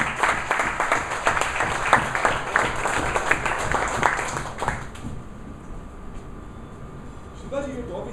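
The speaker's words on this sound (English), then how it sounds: "Can we have a loud round of applause, please?" Club meeting audience applauding volunteers, a dense round of clapping for about five seconds that then stops abruptly, leaving quiet room hum and a brief voice near the end.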